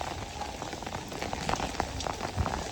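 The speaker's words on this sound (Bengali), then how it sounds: "হালকা হালকা বৃষ্টি পড়ছে এখন," Light rain falling steadily on surfaces at Vrindavan during a monsoon storm, a soft continuous patter of drops with scattered louder splashes, close and even throughout.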